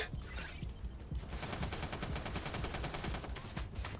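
Rapid SMG gunfire in a video game rattles in a continuous fast burst of close shots, loud and steady for several seconds without speech.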